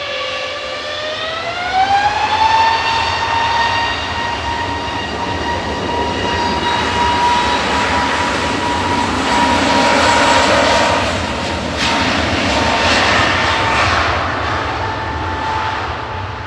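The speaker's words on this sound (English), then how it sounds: "How's Jet2 departing to Ibiza there in front of us?" An Airbus A321neo jet roars steadily as it departs Manchester Airport, a rising engine whine climbing in pitch over a broad rumbling wash, loud and continuous throughout.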